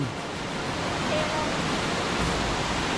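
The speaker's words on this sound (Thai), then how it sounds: "ตรงนี้ครับโอ้ยน้ำตกสวยจริง" A waterfall at Chalermphrakiat in Betong roars as a steady, dense wash of water noise, close and continuous throughout with no clear breaks.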